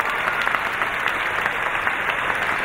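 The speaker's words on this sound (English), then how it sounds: "So let's give them a round of applause." A graduation crowd applauds in a large hall, a loud, dense wash of clapping that holds steady and close for the whole stretch with no voices on top.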